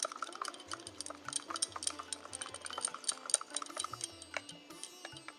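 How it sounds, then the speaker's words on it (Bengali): Gram flour (besan) batter being whisked briskly in a bowl for jhuri bhaja, a steady run of quick metallic clinks and scraping stirs close by, with no talking. "খুব ভালোভাবে ফেটাতে হবে"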